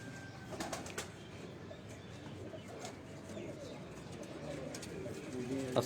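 Pigeons coo steadily in a loft while wings flap in several short bursts, with sharp flutters near and far over a constant low murmur of birds.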